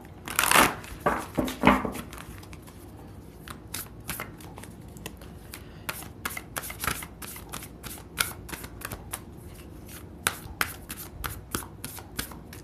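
Oracle cards shuffled by hand, a dense burst of riffling up front followed by a long run of quick, crisp card flicks and taps, close and fairly quiet with no talk.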